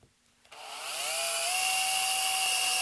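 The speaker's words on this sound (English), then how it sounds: "Go ahead and drill it." An electric drill bores holes into the metal chassis of a compact 5W tube audio amplifier, starting after a brief quiet pause and then holding a steady, loud whine with a rising tone that settles into a sustained pitch.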